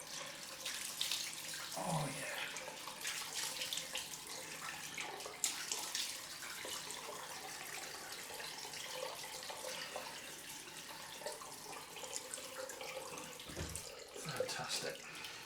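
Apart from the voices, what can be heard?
cold water running from a tap for a rinse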